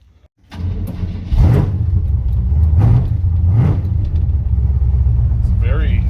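A Chevy C20 hot rod with a small block V8 and a lumpy cam starts up and revs sharply three times in quick succession over a loud, steady idle rumble, with a voice speaking briefly near the end.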